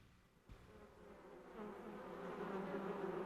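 Honeybees crowding around their hive make a steady, dense buzzing that starts faint and grows fuller and louder within a few seconds, with no voices present.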